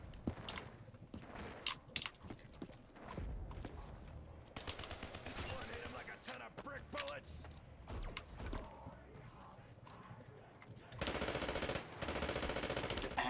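PPSh submachine gun firing in Black Ops 3 Zombies on the Gorod Krovi map, with bursts of rapid automatic fire running through the clip and a long sustained burst near the end, mixed with game noise.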